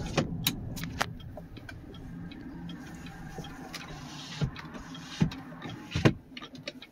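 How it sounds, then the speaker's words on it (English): A power rear window on a 2019 GMC Sierra Denali with a Corsa exhaust hums shut inside the quiet cab, a steady motor whir with a few ticks and a final thunk as it seals. "close that rear window."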